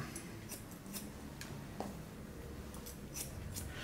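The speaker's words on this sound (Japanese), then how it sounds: "次はもう1センチ切って5センチぐらいにしてみましょう。" Scissors snip through hair being trimmed down to about 5 cm, giving a run of light, crisp cuts at a steady rhythm, close and fairly quiet, with no voices.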